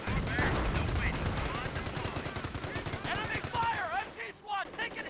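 Rapid bursts of M3 .50 caliber machine gun fire from a Company of Heroes battle, dense and continuous with overlapping shots and some chirping game effects layered in toward the end.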